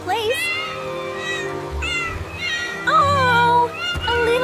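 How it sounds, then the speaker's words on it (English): A small kitten in a 3D animated cartoon meows several times, high and wavering, over a bed of background music and cartoon sound effects. "A little kitten is in trouble, high up on the fountain."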